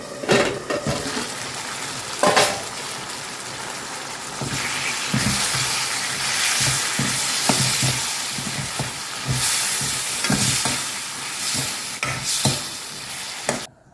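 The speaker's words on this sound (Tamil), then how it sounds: "இப்போ கொஞ்சம் நேரம் வேகட்டும் மூடி வச்சுருவோம்" Mango sambar simmers in a pot under a lid, a continuous bubbling sizzle with irregular louder pops and clatters across the whole stretch, no talking over it.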